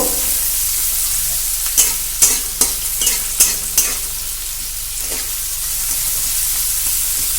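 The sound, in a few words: chopped onions frying in oil, being stirred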